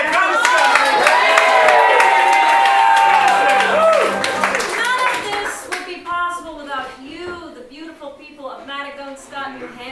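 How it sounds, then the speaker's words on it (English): A crowd at a town's 360th anniversary celebration in New Hampshire claps with scattered cheers, mixed with talking. The applause fades after several seconds as voices carry on. "How about a big round of applause for 360 years of Maddagunkscott?"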